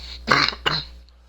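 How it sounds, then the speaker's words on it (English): Two quick, harsh coughs from a sick person close to the mic, the second a little shorter, then quiet. "Sorry guys for the coughing"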